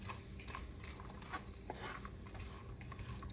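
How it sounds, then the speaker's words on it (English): Onion sweating in a skillet for veggie egg roll filling, a quiet, soft sizzle with light stirring and faint utensil clinks against the pan, with no voices. "I'm going to add my onion. And my skillet."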